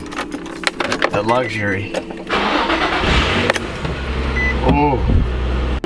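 Infiniti G35 starter cranking and the engine catching, then settling into a steady idle rumble, close and loud, with someone talking before and after.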